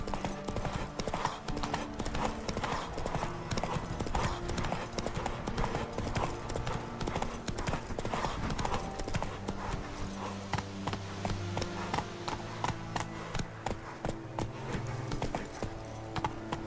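Hooves of the horse Roach clip-clop in a steady galloping rhythm throughout, close and loud in The Witcher 3 video game, with a faint occasional whinny and game music underneath.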